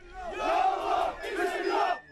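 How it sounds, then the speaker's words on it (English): An angry crowd outside a court chants in unison, a loud, massed roar of voices delivered in two forceful bursts with a brief dip between them. "an angry crowd chants, "Bring back the death penalty.""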